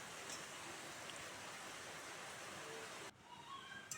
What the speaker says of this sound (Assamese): বাহিৰত বৰষুণ পৰি আছে।